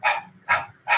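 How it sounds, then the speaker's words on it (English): Yoga breath-of-fire panting done with the tongue out like a dog, three quick, breathy huffs evenly spaced about half a second apart, close and fairly quiet with nothing else around them. "Begin breath of fire. That's a dog breath, so sticking your tongue out,"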